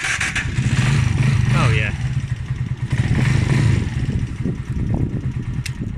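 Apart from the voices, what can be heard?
Huonaio HN 125-8 125cc motorcycle electric start and engine running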